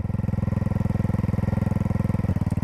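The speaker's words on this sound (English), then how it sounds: "Hopefully you can hear what it sounds like idling here" A Honda Grom motorcycle fitted with a 402 Innovations carbon fiber exhaust idles after warming up, a loud, close, even rapid thumping pulse that holds steady throughout, with no speech.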